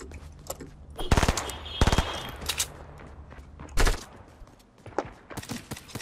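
Bursts of automatic gunfire in the video game Fortnite, several loud rapid volleys at irregular intervals with sharper single shots later, set against a busy game background.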